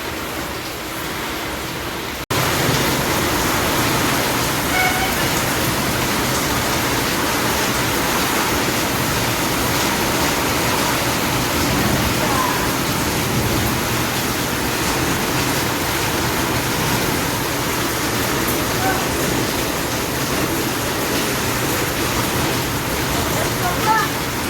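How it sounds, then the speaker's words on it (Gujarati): Heavy rain pours down in Gondal, a steady, dense hiss of downpour that fills the whole stretch without pause and holds loud and even from start to finish. "ચલો વરસાદનો સાપુતારાનું હિલ સ્ટેશન જેવો માહોલ અહીંયા થઈ ગયો છે."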